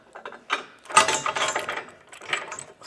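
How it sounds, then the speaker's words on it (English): A ratchet wrench clicks in short bursts while loosening a bolt during installation of a Curt front-mount trailer hitch receiver on a 2025 GMC, the close, rapid ratcheting coming in uneven spurts with no talk. "Might need to loosen this one just so I can have a little more play in this."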